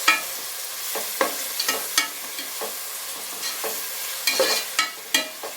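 Onions and ground green chili sauté for mutton biryani, a steady soft sizzle broken by repeated scraping stirs of a spoon against the pan, with no talk.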